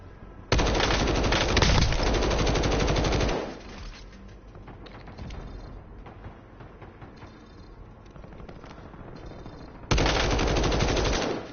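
Rapid machine gun fire in the video game Call of Duty: Modern Warfare, with two long, loud sustained bursts at the start and end and quieter battle noise between them.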